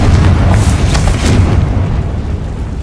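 Explosion from the Confringo blasting spell, a loud, deep, rumbling boom with crackling bursts that swells early and then rolls on and slowly fades.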